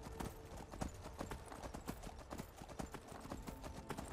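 Horse hooves clip-clop in a steady rapid gallop rhythm in the Skyrim video game, loud and continuous throughout, with faint neighing mixed in.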